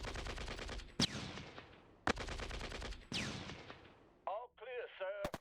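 Video-game artillery and gunfire in the strategy game Shadow Empire: three loud, sharp blasts, each trailing off in a rumbling decay, followed by a few short clicky interface or radio-like sounds near the end.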